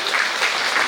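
Audience applause for a police officer honoured with a service commendation medal, a steady, dense clapping throughout with no voices on top.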